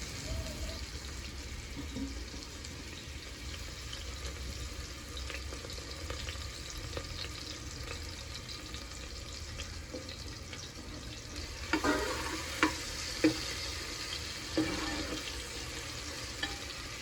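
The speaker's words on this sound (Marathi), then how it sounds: "तेल गरम झालं की त्यात बारीक चिरलेला कांदा घालून सोनेरी होईपर्यंत परतून घेऊयात" Finely chopped onion sautés in hot oil until golden with a low, steady sizzle, joined later by a few scraping stirs and clinks.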